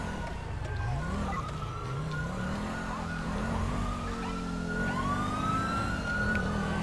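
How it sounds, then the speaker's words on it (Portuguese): Police car siren in the video game GTA V, a steady loud wail with rising and falling sweeps over a low engine rumble, continuous throughout. "Ligar a sirene aqui."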